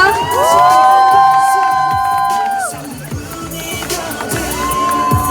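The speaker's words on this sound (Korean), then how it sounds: "여러분 큰 박수 부탁드릴게요" At a charity event, an audience cheers and shouts loudly over music with sustained tones, the crowd noise swelling early and then continuing more unevenly.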